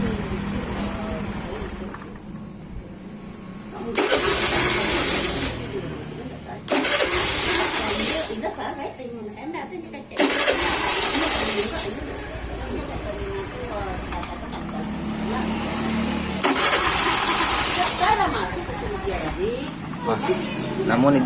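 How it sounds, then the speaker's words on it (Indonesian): A Honda Beat scooter with an ignition fault is started and runs unevenly, its engine bursting into roughly five loud revving surges separated by quieter stumbling idle, while someone talks over it. "Sekarang kita coba starter, kita coba hidupkan dulu."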